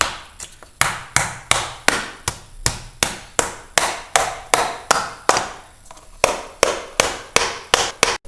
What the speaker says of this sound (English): I had to hit that a bunch of times for it to totally come apart